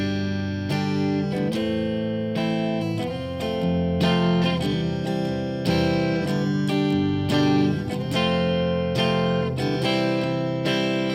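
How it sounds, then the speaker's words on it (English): Open chords of a song ring out on an instrument in a steady, full progression of strummed or struck chords, close and loud, changing roughly every second or two with no talking. "Let me just start by playing the open chords for you."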